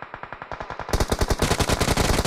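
Rapid automatic gunfire in PUBG Mobile, loud and close, a steady stream of shots that grows denser and heavier partway through as more weapons join in.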